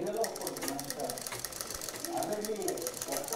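A sewing machine stitches a blouse lining to the blouse piece, a quiet, rapid mechanical chatter of needle strokes running continuously through the short clip.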